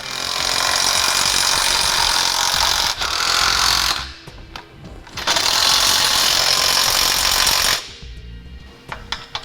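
A power tool tightens the hardware and flange nuts while a Curt trailer hitch receiver is being installed. It gives two long, loud, rattling bursts, each about four seconds, with a brief quieter pause between them.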